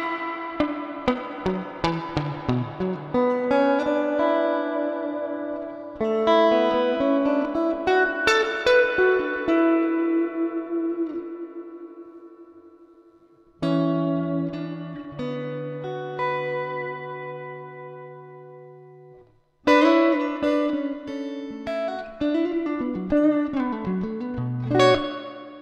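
Plucked electric guitar phrases drenched in reverb, with long washy tails and a dripping quality, played alone in several separate passages.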